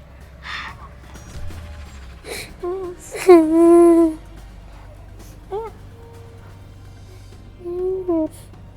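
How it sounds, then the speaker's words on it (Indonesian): A person crying in whimpering, sobbing bursts with gasping breaths, moderately close, over a low steady rumble of background noise. "aku tergoda banget sama suara orang nangis"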